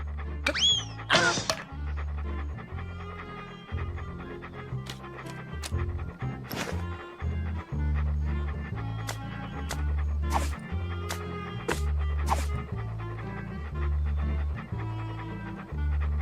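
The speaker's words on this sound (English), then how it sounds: "Here, doggy doggy." Cartoon dog in the adventure game Monkey Island 2: LeChuck's Revenge, short barks and yips over a looping game music score, with rhythmic panting accents scattered throughout.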